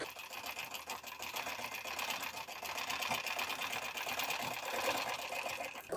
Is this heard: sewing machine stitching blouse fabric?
yes